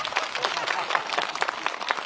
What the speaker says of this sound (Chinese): 大家给点掌声好不好？